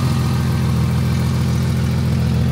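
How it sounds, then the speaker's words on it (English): A Ford wagon running on gas idles with an exhaust leak, giving a loud, close, steady low rumble with a fast, even pulse and no talk. "Got a bit of an exhaust leak."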